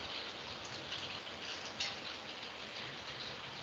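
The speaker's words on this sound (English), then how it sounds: "And it's raining here" Steady rain falls outside during an online class, a continuous dense hiss of drops at moderate volume with no voices, broken only by one faint tap near the middle.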